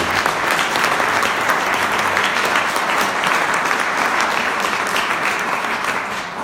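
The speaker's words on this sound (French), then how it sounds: "je vous demande de les applaudir" Sustained applause from a gala-evening audience in Strasbourg, dense steady clapping filling the room from start to finish, a touch quieter near the end, with no speech over it.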